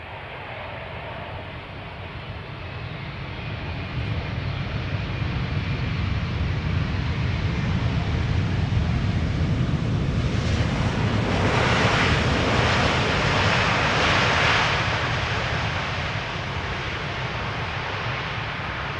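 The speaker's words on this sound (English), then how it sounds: "KLM flight 636 arriving from Las Vegas." A 20-year-old KLM Boeing 777-200 landing at Amsterdam Schiphol after a flight from Las Vegas: a long, wind-like jet roar that builds to a loud peak midway, then slowly eases back, with no voices.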